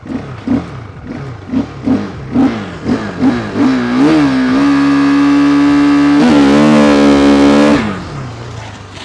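A sport motorcycle revs up in rapid pulses while riding, then climbs into a sustained loud engine howl that rises in pitch through gear changes before dropping away.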